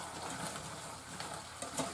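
Chicken thighs fry in a hot pan with a steady, faint crackling sizzle that carries on evenly throughout, with no voices over it.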